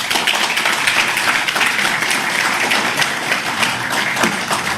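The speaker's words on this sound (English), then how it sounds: "Request all of you to give him a warm round of applause for this momentous announcement" Sustained applause from an audience at a Google and Andhra Pradesh government MoU signing event, a dense, steady wash of clapping lasting throughout at even loudness with no speech over it.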